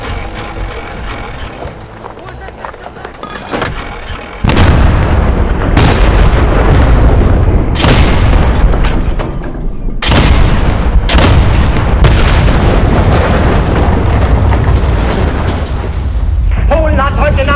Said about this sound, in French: la logistique et l'artillerie prennent le relais en bombardant des positions stratégiques